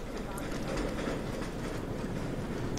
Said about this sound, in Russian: это метро сверху еще